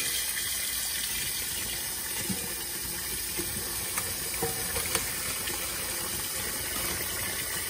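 Cold water running steadily from a tap while shrimp are being boiled, a constant close hiss and gush with no breaks and no voices over it.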